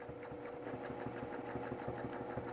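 Domestic sewing machine stitching a long straight quilting line across a fabric panel, a steady rapid needle clatter with a continuous motor hum running evenly throughout.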